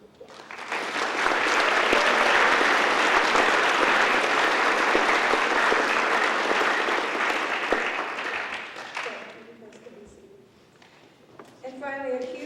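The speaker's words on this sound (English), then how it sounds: "So I'd like to give them a round of applause." Audience applause at a National Honor Society induction ceremony for a high school class of 2004, loud sustained clapping filling a hall for about eight seconds before fading, with talk resuming near the end.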